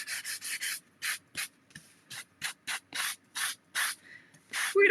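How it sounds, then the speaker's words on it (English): Rhythmic sanding strokes with a hand block, a series of short raspy scrapes repeated back and forth at a steady pace, close up and alone. "Where's my sanding block? Let's get my sander out here."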